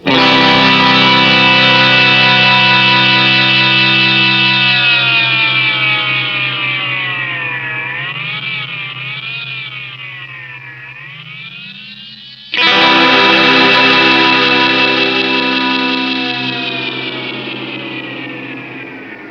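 A Roland RE-201 Space Echo tape echo unit self-oscillates into a loud, sustained, swirling feedback tone that warbles and sinks in pitch, then jumps back up abruptly and slowly falls again.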